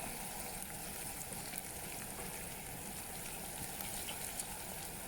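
Onions fry in oil with a steady, dense crackle and hiss that holds evenly throughout, close and fairly quiet, with no voices.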